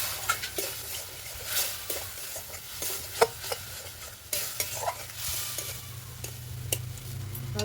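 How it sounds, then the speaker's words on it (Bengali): A Bengali spice paste with tomato seeds and a splash of water sautés in a pan for tomato-coriander chops, a soft continuous sizzle broken by repeated scraping clicks of a spoon stirring, close and fairly quiet. "মশলাটা কষিয়ে নেব ভালো করে।"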